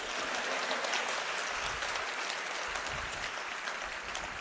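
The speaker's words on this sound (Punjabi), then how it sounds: "ਤਾੜੀਆਂ ਮਾਰ ਦੋ" An audience at a political rally applauds with a steady, dense wash of clapping that carries on evenly for several seconds, with no voices over it.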